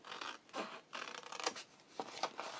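Scissors snip through card stock along a score line, several short rasping cuts in an uneven rhythm, close and fairly quiet with no talking.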